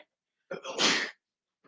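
One nearby sneeze, a quick inhaled build-up leading into a loud forceful burst, otherwise quiet.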